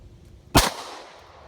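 A single sharp metallic clack from a Hi Point C9 pistol slide slamming forward with a Redball Sports extended 20-round magazine inserted, one loud close impact standing alone in quiet room tone.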